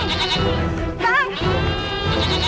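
Frightened goats on a farm bleat in a loud, quavering cry that rises briefly mid-moment, set against a busy bed of dramatic music.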